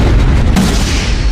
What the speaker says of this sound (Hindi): हमें यहाँ एक और पेपर बॉम्ब मिला है। मैं इसे अभी डेटोनेट करना होगा।